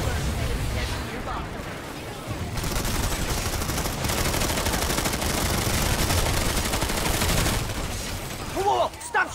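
Loud, sustained video game gunfire, with bursts of automatic weapons forming a dense, continuous barrage that carries on for several seconds before easing off, with faint voices in the mix.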